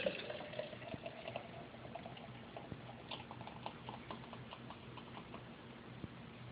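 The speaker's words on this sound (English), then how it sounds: "I'm going to try my best to pour it as fast as possible." Boddingtons pub ale poured quickly from a can into a glass makes a faint, steady trickling and glugging at close range, with scattered soft clicks and taps throughout and no talk.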